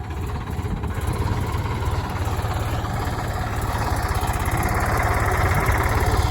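A 42 horsepower tractor engine runs steadily in a field, a loud, close, continuous low throbbing rumble with a mechanical rattle and no talking.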